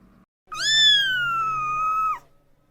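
A cat gives one long, clear meow that rises briefly, then holds steady and fades. It sounds close and loud against a quiet background.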